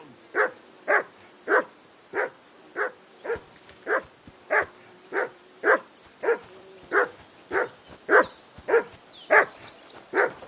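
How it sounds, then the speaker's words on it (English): A dog barks in Kingdom Come: Deliverance II, about seventeen sharp, evenly spaced barks in a steady rhythm, loud and close, with no talk over them. "Henry! Call that dog to heel."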